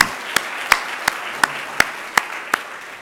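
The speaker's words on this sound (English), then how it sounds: "So if I could get a round of applause for them, that'd be fantastic." At a campus well-being conference, a round of applause for panelists and moderators comes through as a slow, evenly spaced run of about seven sharp single claps over a soft background hiss.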